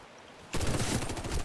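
Sudden burst of rapid gunfire in the game Warface kicks in after a brief quiet moment, a loud continuous volley of shots with a game-like, compressed sound.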